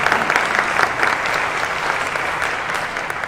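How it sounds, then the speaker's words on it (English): Audience at a maternal and infant health summit breaking into loud, sustained applause, a dense clapping crowd that holds steady for a few seconds without speech over it. "you can applaud for that."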